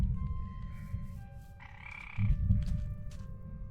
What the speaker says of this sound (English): Frog for frog legs.